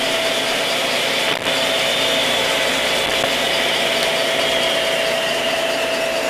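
An old radial arm saw runs in a workshop, producing a constant droning motor hum with a steady high whine, close and unbroken, with no voices.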